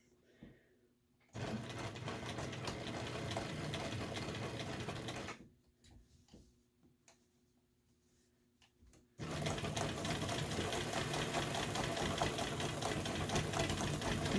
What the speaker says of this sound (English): I'm sewing right next to that pinked edge, but not in it.